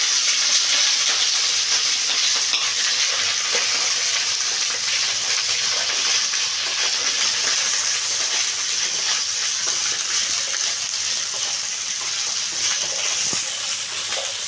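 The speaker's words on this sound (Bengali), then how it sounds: "এখানে আমি ঢ্যাঁড়সগুলোকে ফার্স্ট একটু ভেজে নেব।" Okra fries in oil in a wok, giving off a loud, even, close sizzle that holds steady and unbroken throughout.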